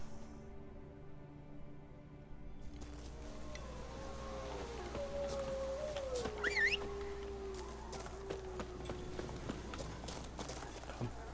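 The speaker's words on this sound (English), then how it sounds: "Whoa there, Roach." Horse hooves clip-clopping in The Witcher 3: Wild Hunt video game, a steady, fairly quiet trotting rhythm under ambient game sound and a brief bird-like call, with no talking.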